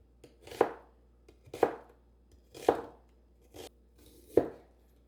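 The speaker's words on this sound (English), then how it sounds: "We're going to use half onion. Remove the outer layer. And we're going to slice it up." Knife slicing half an onion on a cutting board, five crisp, evenly spaced chops close up with soft scraping between them and no talk.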